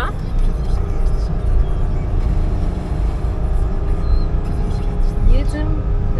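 Steady, loud low rumble of a car driving along a road on Rhodes, with constant road and engine noise filling the cabin while people talk over it.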